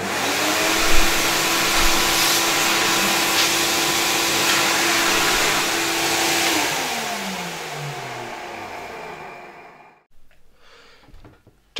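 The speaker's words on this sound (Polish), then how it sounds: "czyszczarkę podłączamy do wylotu powietrza z odkurzacza" Vacuum cleaner running with an old Domgos RFSD carpet cleaner attachment connected to its air outlet, a loud steady whine that drops in pitch as the motor winds down and stops near the end, leaving near silence.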